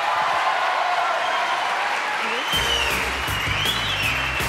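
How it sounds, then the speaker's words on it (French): An audience breaks into applause partway through, a dense, steady clatter of many hands that follows a stretch of tonal, voice-like sound and carries on to the end. "Applaudissements pour Patrice et Gisèle."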